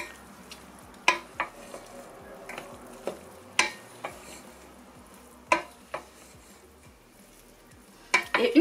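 Mushrooms and pointed cabbage stirred in a frying pan, with sharp intermittent scrapes and clacks of the utensil against the pan over a soft, low sizzle.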